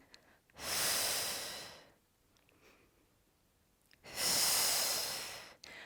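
Two long, forceful breaths close to the microphone, each a loud airy rush with a brief quiet gap between them.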